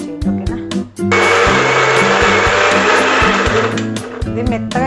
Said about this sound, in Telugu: ఇది మెత్తగా ఇట్లా మిక్సీ పట్టుకోవాలి.